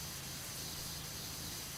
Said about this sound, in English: I'm gonna spray this fucking power washer directly in your mouth.